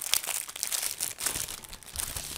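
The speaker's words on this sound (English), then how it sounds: "We're going to take out the keyboard out of its plastic sleeve and set it onto the table." A plastic sleeve crinkles and rustles continuously as an Arteck HW197 wireless touchpad keyboard is pulled out of it, close and fairly quiet, with irregular crackling bursts throughout.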